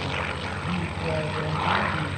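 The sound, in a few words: P-40 Warhawk aircraft engine with Packard-built engine at airshow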